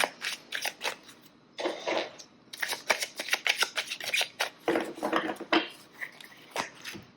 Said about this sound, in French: Alors, hop, on va faire un petit tirage du Lenormand.